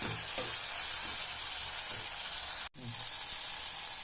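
Tomatoes frying in hot oil for chicken biryani give a steady, close sizzle with bubbling crackle throughout, broken by a brief dropout just past the midpoint.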